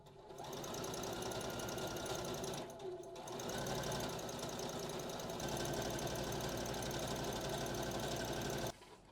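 A sewing machine runs a gathering stitch through skirt fabric, a fast steady mechanical whirring and clatter held close for several seconds, with a brief pause near the start and stopping at the end.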